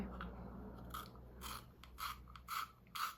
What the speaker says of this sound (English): don't be like me and come with a blunt sharpener in the mix. Come with a sharpened one, Lisa.